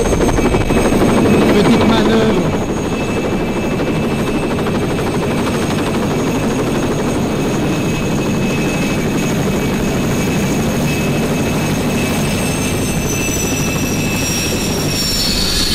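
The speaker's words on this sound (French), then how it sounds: "on va pouvoir survoler la banquise en hélicoptère" A helicopter's steady rotor and engine roar fills the whole stretch, loud and close, with a slight drop in intensity after the first couple of seconds, flying over Arctic pack ice.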